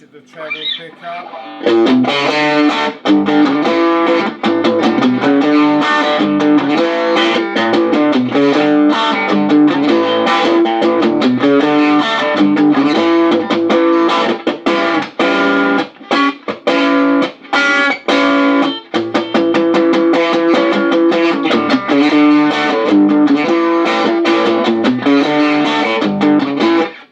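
Electric guitar on its treble pickup played through a 1964 Watkins Scout valve combo amp, a bright, punchy, slightly overdriven run of chords and notes that plays continuously and loud, with brief gaps between phrases.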